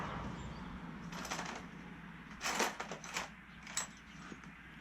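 Keys for a 2006 Kawasaki Ninja EX500 jangle in several short metallic bursts, close and fairly quiet, over a low background hum.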